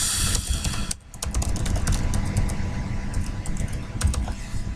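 Keyboard keys tapped in quick bursts as an email address is entered, with a steady low rumble of a passing car or engine underneath throughout.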